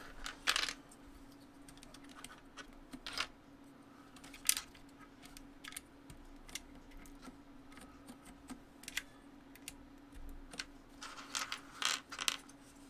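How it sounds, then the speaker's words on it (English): Small plastic keyboard keycaps clattering onto a desk in several sharp, brief clicks scattered across the stretch, faint and close against a steady low electrical hum, with no talking. "Drop the keycap."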